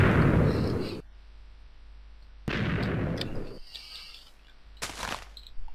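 TNT cannon explosions in Minecraft, two loud booming blasts with a sharper burst after them, separated by quiet gaps.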